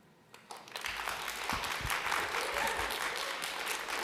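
Applause swells from an audience in the New York City Council chamber during a stated meeting, starting quietly and building into sustained, dense clapping that fills the room.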